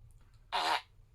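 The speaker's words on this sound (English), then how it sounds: "Of course it's a fart." A fart sound effect from a soundboard app, one short buzzy blast of about a quarter second, fairly quiet against near silence.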